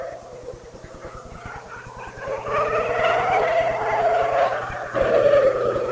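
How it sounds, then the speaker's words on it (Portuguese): Formula 1 cars with Ferrari and Honda-powered BAR engines howl at high pitch, rising and falling as they pass at the 2000 United States Grand Prix, loud and continuous with crowd noise beneath. "É diferente o barulho do motor da BAR para o da Ferrari, mesmo sendo um Honda que empurra a BAR."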